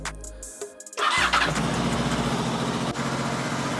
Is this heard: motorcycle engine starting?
yes